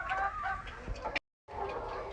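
Laying hens cluck on a poultry farm in winter, several birds calling over one another in a busy barn, cut by a short silent gap before the clucking resumes.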